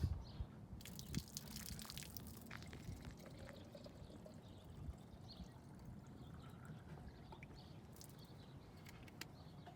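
Lake water pours and trickles into a sample bottle in a faint, continuous splashing stream with scattered drips. A bird chirps softly outdoors in the background.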